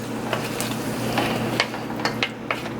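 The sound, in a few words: tossing curry shrimp with coconut milk in a pan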